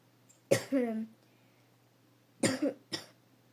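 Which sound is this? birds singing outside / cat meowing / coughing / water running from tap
coughing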